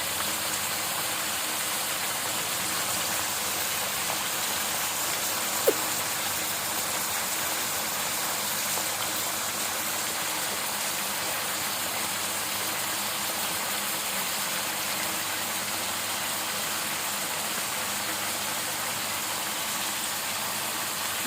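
Sour yogurt going into a hot pan of kala bhuna, a Bengali spiced beef dish, giving a steady, even hiss of sizzling with a single brief clink partway through.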